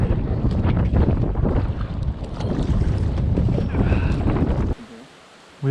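Strong, gusting wind batters the microphone with loud broadband roar and buffeting during a duck hunt in extreme high winds, cutting out abruptly near the end to a brief quieter lull before rising again.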